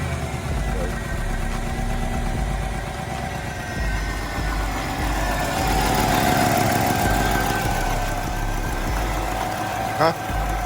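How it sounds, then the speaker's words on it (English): A 1995 Chevrolet Caprice engine with an exhaust leak runs steadily at idle after its first start in over a year, a loud, close, continuous rumble with a rough pulsing ticking, while people talk nearby. "It's got an exhaust leak on it."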